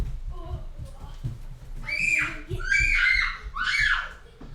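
Loud, shrill screaming in Farming Simulator 19 on a farm, three long rising and falling wails after a few low murmuring voices, with a low rumble running underneath.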